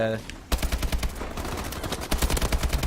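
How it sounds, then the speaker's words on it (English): Rapid automatic fire from an IMR assault rifle in Call of Duty: Advanced Warfare, a dense, steady stream of close, punchy shots running almost continuously after a brief pause at the start, loud and dominant. "this is basically your typical run-of-the-mill assault rifle"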